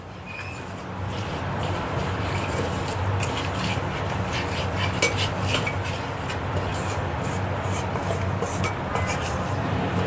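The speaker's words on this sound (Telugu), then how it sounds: "సో ఇదంతా కూడా మనం ఫస్ట్ మసాలా అయితే కలుపుకుందాము" A masala marinade for chicken biryani with yogurt is mixed in a bowl, a steady scraping, rubbing churn with light metallic clinks of spoon on dish running throughout, with no talking.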